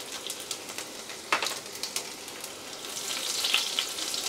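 Chopped garlic and whole cumin seeds frying in hot oil over a low flame, a continuous soft sizzle with scattered crackles and pops, close and alone with no voices.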